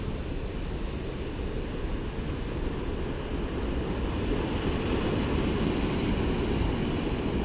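Surf washing onto a small beach in a bay along the Great Ocean Road, heard as a steady, continuous rush of waves with some wind noise, fairly loud and unbroken throughout, with no voices.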